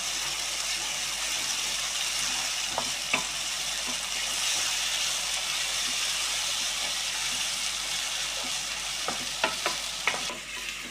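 Masala paste of ginger, garlic and coconut with onion and curry leaves sizzles steadily in a pan, with occasional sharp scrapes and clinks of a spoon stirring it, nearby and continuous.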